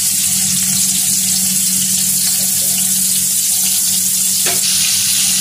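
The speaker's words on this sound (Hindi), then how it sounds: "और ये प्याज जाएंगे, अब इसको फ्राई करेंगे।" Onions frying in oil in a pot for tikka pulao, a steady loud sizzle running throughout with a brief stir or clink near the end, no talking.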